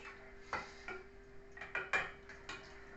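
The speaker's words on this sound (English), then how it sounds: "Give that a stir around" A utensil stirs peppercorn sauce with onions in a pan, making quiet, irregular scraping and clinking strokes over a low steady hum, with no talk.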